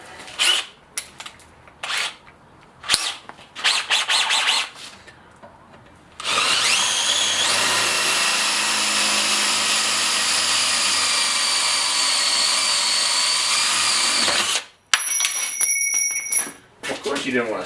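A power drill bores a pilot hole through a pipe for a forge burner, running as one loud, steady whine for several seconds after scattered clicks and handling noise.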